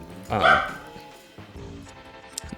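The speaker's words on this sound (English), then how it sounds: "Why is my dog barking?" A dog gives one loud bark followed by a few softer yips and whimpers in a video game zoo setting, with a person talking over it.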